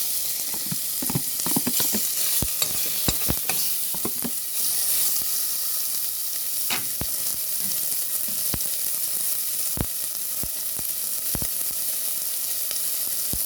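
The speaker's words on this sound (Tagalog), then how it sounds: "halo na natin yung chicken, chicken breast lang." Chicken breast being stirred in a hot pan for arroz caldo, a steady sizzle broken by repeated sharp spatula scrapes and knocks, close up, with no voices.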